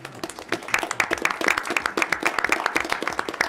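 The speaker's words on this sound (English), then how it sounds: "I think they deserve a round of applause." A small audience at a school board committee meeting breaks into steady applause, dense overlapping hand claps sustained throughout at moderate distance with no voices over them.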